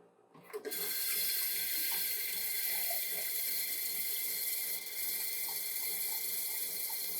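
Tap water runs steadily into cups for Spanish rice, a constant splashing stream that starts abruptly after a clunk and continues close and uninterrupted, with faint kitchen clatter underneath.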